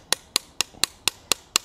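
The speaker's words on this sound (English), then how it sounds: "So you're hammering that piece" Hot steel is hammered while forging a Gothic-style bottle opener: seven crisp, ringing blows land at a steady, even pace, close and loud over a quiet background.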